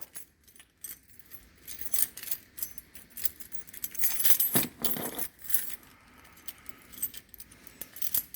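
Keys jangling inside a 1996 Blue Bird bus converted into a tiny house on a cold morning in Maryland, with repeated close metallic clinks and rattles in irregular bursts.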